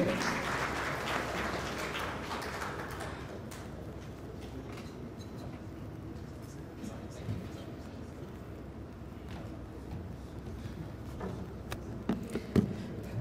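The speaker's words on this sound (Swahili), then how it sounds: "Naomba tumpigie makofi kwa mara nyingine tena mwenyekiti wa maandalizi kitaifa" Applause from a crowd at a gala dinner welcoming guests to the CHAN 2024 football tournament in Tanzania, a broad steady clapping that fades into a low room murmur with scattered claps and clinks.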